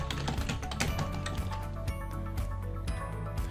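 Rapid, uneven clicking of computer keys as a business name is typed, close and fairly loud, a dense run of taps with short pauses between bursts.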